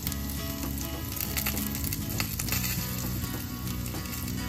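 Ginger garlic paste fries in butter for kofta curry, a continuous bright sizzle with occasional light clinks of a spoon, no voices.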